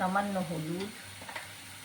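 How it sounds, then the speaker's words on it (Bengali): Spice paste for a Bengali-style pomfret fish jhal fries in oil with a soft, steady sizzle, while a voice talks over the first half and the frying carries on quietly alone afterward. "এবার এই মশলাটা খুব সুন্দর করে ভেজে নেব"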